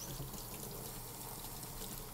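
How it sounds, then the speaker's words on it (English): Hot tap water runs steadily over a golf grip being rinsed, a soft continuous splashing stream with no talk. "and then you just simply rinse it off"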